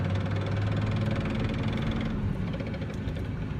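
Rough engine drone from a 1996 truck driving in second gear with a knocking NV4500 manual transmission, a steady loud rumble with a faint rhythmic knock running underneath.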